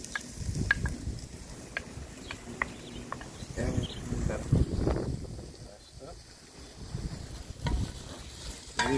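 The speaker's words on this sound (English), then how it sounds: "Now we're gonna drop all the onions in." Onions dropped into hot oil in a pot on a rocket stove, a soft sizzle and frying under stirring and clatter of a spoon, with people talking throughout.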